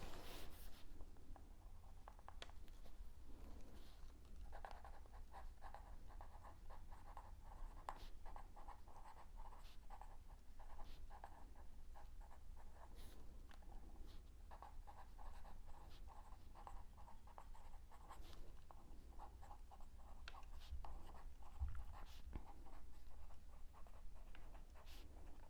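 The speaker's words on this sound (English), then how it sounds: "I'm going to go ahead and jot down a couple more" A pencil writes on paper, a steady, faint scratching and tapping that goes on without a break for a long stretch, close and quiet, with no talk.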